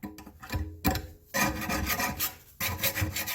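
A file rasps across the edge of a lawnmower blade in a few long, harsh strokes, close and loud, each separated by a short pause.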